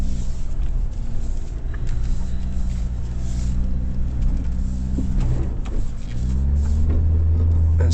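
A 2025 Kia Tasman X-Pro pickup accelerates at full throttle in 4H with its wheels spinning, a steady, loud engine drone and low rumble heard from inside the cab, rising near the end.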